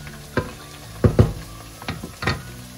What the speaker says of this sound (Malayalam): ഇനി നമുക്ക് ഇതിൻ്റെ അകത്തേക്ക് ടൊമാറ്റോ പ്യൂറി